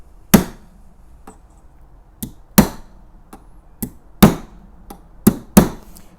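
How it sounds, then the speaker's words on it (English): Sharp, loud metallic strikes of a knife spine driving a nail into wood, about ten irregular blows with pauses between them, each ringing briefly, with no talking. "Who hammers nails with their knife?"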